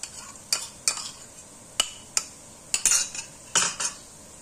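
Qeema with crushed ginger is stirred in a pan, a utensil scraping and clinking against the metal in about ten sharp, irregular strokes, fairly close and clear, with no talking.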